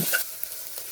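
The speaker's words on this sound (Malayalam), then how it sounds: "ക്യാരറ്റ് ഒന്ന് വാടുന്നത് വരെ ഒന്ന് ഇളക്കി കൊടുക്കാം." Carrots fry in a pan for chicken biryani while being stirred, a soft close sizzle with a brief scrape of the spoon near the start, faint and alone.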